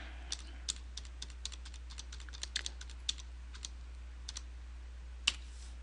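Digits of a Visa card number typed on a computer keyboard, a quiet run of irregular single keystrokes with short pauses, then one louder key press near the end, with no talking.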